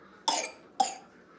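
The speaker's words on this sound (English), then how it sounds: "she's still kind of got that cough" A young child coughs twice, two sharp separate bursts about half a second apart, close to the microphone in a quiet indoor room with no talking.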